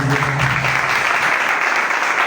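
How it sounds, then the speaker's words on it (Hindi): Loud, dense applause from a congregation at a Christian blessing meeting, a close and continuous roar of clapping that carries steadily from start to finish. "जोरदार तालियां मिलती है।"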